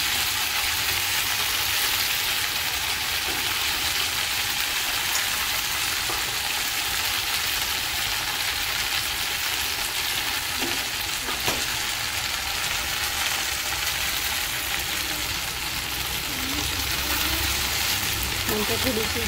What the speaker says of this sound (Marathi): थोडी थोडी सगळी भाजी याच्यामध्ये टाकून घ्यायची कढईमध्ये.